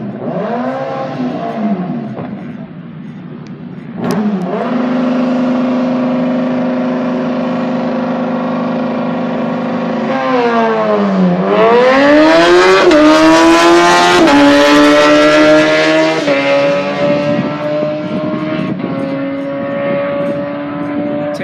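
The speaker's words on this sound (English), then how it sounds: "The two bikes are going to race against each other." Engines roar loudly at a night drag race at Rocky Mountain Speedway, two motorcycles launching side by side, a steady drone climbing into a high-revving wail with sharp shifts that drop and rise again, continuous and close.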